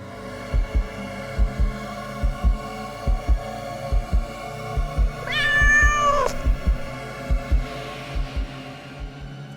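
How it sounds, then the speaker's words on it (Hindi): Cat meowing while being picked up and carried indoors: a single drawn-out, rising-then-falling meow near the middle, set over a soft rhythmic thumping pulse and low hum. "अनिकेत बिल्ली को गोद में उठाता है, घर के अंदर ले जाता है।"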